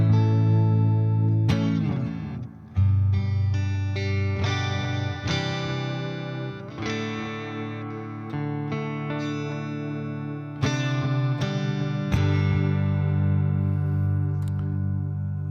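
Electric Telecaster guitar played through effects, sustained distorted chords and notes ringing out with swells and short breaks between phrases.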